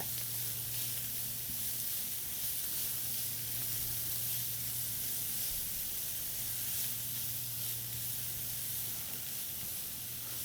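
Zucchini noodles lightly sautéing in a skillet give a continuous soft sizzle and hiss at steady volume, with a low constant hum beneath and no voices.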